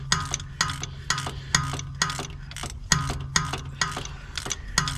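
A hand ratchet clicks in quick bursts of rapid pawl ticks while tightening starter bolts on a Dodge Charger with a 5.7 Hemi, each stroke sharp and close with brief pauses between.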